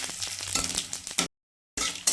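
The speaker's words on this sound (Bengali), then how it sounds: "সামান্য একটুখানি রাঁধুনি তেলের মধ্যে পাঁচ ফোড়ন শুকনো লঙ্কা তেজপাতা সবার দিয়ে দিলাম" Panch phoron spices, dried red chilli and bay leaf frying in hot oil, a loud close crackling sizzle that cuts to a brief silence midway and then resumes.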